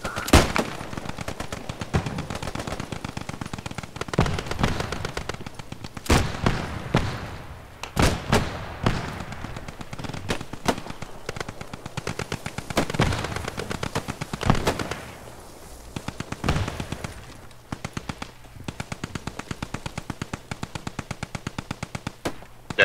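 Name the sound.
machine gun fire from video game Post Scriptum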